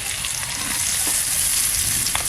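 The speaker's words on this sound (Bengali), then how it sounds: "আলু ভাজা হতে হতে ওর মধ্যে আমি পেঁয়াজটা দিয়ে দেবো পেঁয়াজটাও ভাজা হয়ে যাবে তেলে" Potatoes and onion fry together in oil for a fish curry, giving a steady, loud, close sizzle with faint stirring clicks and no talk.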